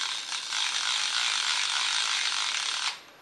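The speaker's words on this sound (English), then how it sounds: "We fold up the winding crank, we start rotating" The winding crank of a Hasselblad A12 film back is turned, producing a close, continuous fine ratcheting whir that holds steady for nearly three seconds and then stops.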